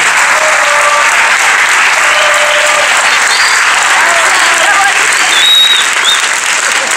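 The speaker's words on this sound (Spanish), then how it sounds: "Por supuesto, un aplauso también para ellos." Loud, continuous applause from an audience at a school presentation event in the Museo del Bicentenario, many hands clapping densely and evenly, with faint voices and a few cheers mixed into the wash.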